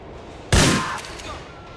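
A single shotgun blast fires in Grand Theft Auto IV, a sharp loud crack followed by a short decaying tail, with no voices.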